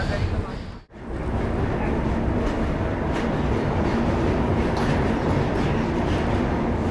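Amritsar Jaynagar Humsafar Special train standing at Ambala Cantt station, a loud continuous rumble of idling coaches and station noise, broken by one brief sharp dip near the start.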